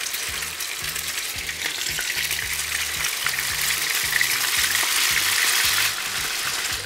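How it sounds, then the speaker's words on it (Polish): Potato pancakes with grated carrot and cheese fry in hot oil, a steady, close sizzle that holds all the way through with a faint, regular low knocking beneath it and no talk. "Ten olej już jest wystarczająco rozgrzany. Mogę kłaść na niego ziemniaki,"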